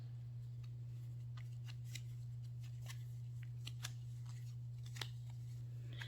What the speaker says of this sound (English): there's actually a process of shuffling that I'm using here that's kind of different